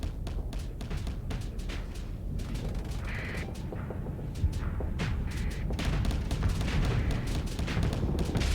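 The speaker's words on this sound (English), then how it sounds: "Keep shooting him." Continuous weapons fire from a space battle in Starsector, dense overlapping shots and booms in a steady barrage throughout, fairly loud with no clear pauses.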